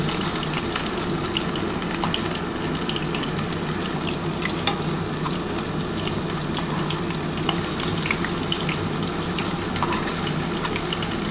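Mutton keema and potato fritters fry in hot oil with a continuous, dense sizzle and crackle, steady and close throughout with a few small pops.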